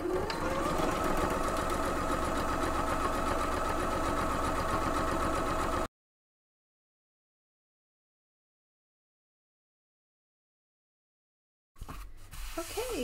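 Sewing machine top stitching rows through a quilted backpack pocket backed with foam, running steadily and close for about six seconds, then stopping into silence before a brief handling rustle.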